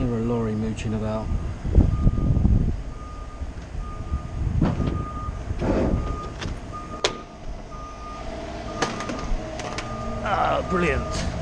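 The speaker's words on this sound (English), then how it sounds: "I can hear a lorry mooching about." A lorry reversing outside, its alarm beeping at a steady regular rhythm at middling distance beneath a running diesel engine, while a person moves about nearby and talks in bursts over the vehicle noise.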